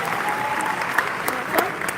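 A crowd at a Pokémon trading card event's main stage keeps clapping for creators, a fairly soft, even patter of many hands with a few sharper accents and faint voices underneath.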